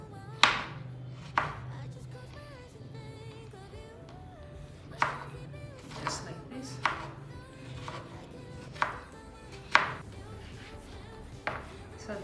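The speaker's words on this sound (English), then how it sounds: "So this is the last part of the last piece of the tomato that I'm cutting." Knife chopping tomatoes into small pieces on a cutting board, about ten sharp, distinct board thuds at uneven intervals, close by, with a person talking softly between them.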